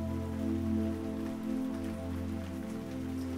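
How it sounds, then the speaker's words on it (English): Raindrops patter on pavement at a train station platform, a steady soft hiss of rainfall with a low hum beneath, continuous and even throughout. "The sound of the raindrops hitting the pavement fills your ears."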